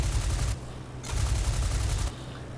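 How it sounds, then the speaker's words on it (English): Aircraft machine guns fire in the IL-2 Flying Circus flight combat game, two dense loud bursts of rapid rattling shots over a low engine drone, each lasting about half a second to a second. "I'm going to take a few shots at him and then break it off"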